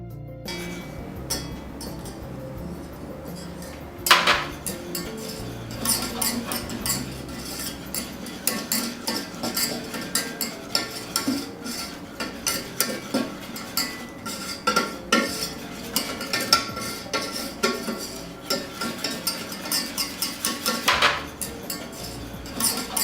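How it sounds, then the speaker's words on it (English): Almond powder and sugar whisked in a mixing bowl, the whisk clinking and scraping against the sides in a steady, busy rhythm that runs throughout, close and fairly loud with no talking. "Whisk it to a smooth mixture."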